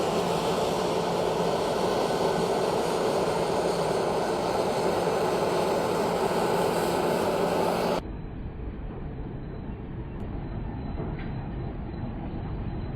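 A CR880 combine harvester with its straw chopper running through spring barley, a loud, dense and continuous mechanical roar and whir that holds steady throughout, its tone turning duller and narrower partway in, with no talking.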